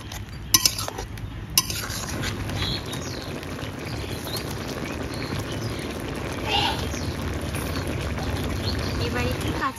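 A spoon clinks and scrapes in a pan as mustard paste is stirred into soft, cooked red amaranth stalks, with a few sharp knocks near the start and a steady sizzling hiss underneath.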